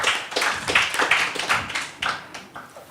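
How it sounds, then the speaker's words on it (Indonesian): Scattered, uneven clapping from a small audience at an Islam–Christianity debate, close and distinct, with individual claps audible rather than a dense roar. "Tepuk tangan untuk mereka berempat."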